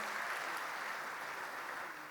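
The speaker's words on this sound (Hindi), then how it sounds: "एक बार जोरदार तालियां एनबीटी के लिए बजा दीजिए" An audience at a Hindi kavi sammelan poetry recital in Gorakhpur applauds in a soft, even wash of clapping that stays steady and slightly fades, heard from a distance.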